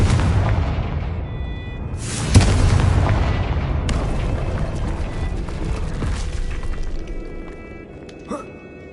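A Confringo blast spell in Hogwarts Legacy detonates with a loud, booming burst, followed by a rumbling tail and a second smaller pop near the end.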